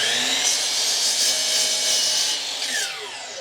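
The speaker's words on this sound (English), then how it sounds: "What do you think? Miter saw again?" A miter saw cuts scrap wood salvaged from the dump: a continuous bright whining saw roar for about three seconds, fading slightly as the cut finishes, with no speech.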